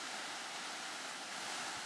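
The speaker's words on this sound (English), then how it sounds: "finally as a crashing wave on the seashore" Waves crash on a seashore with a steady, dense roar of surf that holds evenly throughout, with no voices.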